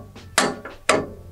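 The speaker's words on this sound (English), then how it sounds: "hammer this one out" Two sharp metal-on-metal hammer blows drive a bolt out of a Toyota Tacoma transmission cross beam, close and loud, each with a short ringing decay and lighter taps between.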